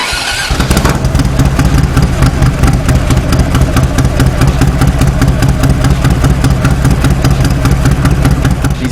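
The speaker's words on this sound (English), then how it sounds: "put the spark plug wires back on the plugs and crank it up" A motorcycle engine fitted with S&S Easy Start cams cranks briefly then fires up and settles into a loud, rhythmic, lumpy idle, close and steady.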